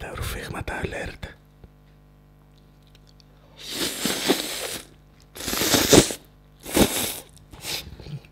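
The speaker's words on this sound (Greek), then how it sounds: "Ρουφίγματα alert, ρουφίγματα alert." A whisper opens, then three loud, close, airy slurps of spaghetti with minced meat follow one after another, each a sharp wet rush of noise.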